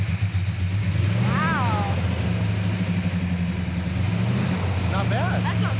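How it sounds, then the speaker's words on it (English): A 1967 Plymouth GTX convertible with a Hemi V8 idles loud and close with a deep, steady rumble and slight rev changes, while voices speak briefly over it. "we're ready to start this mother humper up"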